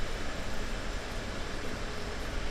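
Steady broadband rumble of a train running on the Rhein-Ruhr main line between Duisburg and Bochum via Essen in Train Sim, a continuous close roar with no talk.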